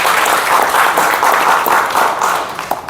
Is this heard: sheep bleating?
no